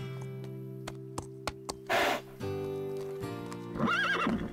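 Pepper, a cartoon horse, gives a quick neigh with a hoof clop or two. A short breathy snort is followed by a bright, wavering whinny over light background music.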